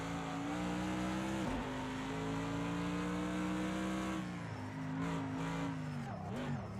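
Mercedes AMG GT3 race car engine in Project CARS 2 at Bathurst, a loud, steady high-revving drone that shifts pitch near the end as the throttle comes back on.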